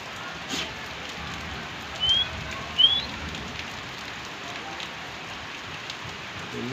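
Torrential rain pouring down in Sahiwal, a steady, even hiss of downpour heard from a distance, broken by two brief bird chirps partway through.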